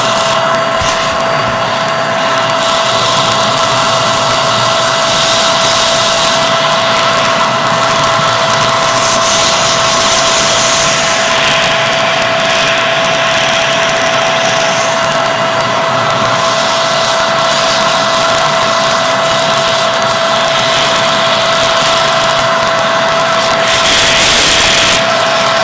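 An air blower roars steadily while cleaning a karambit knife, a loud, close, continuous rushing hiss with slight shifts in pitch and intensity throughout, and no voices.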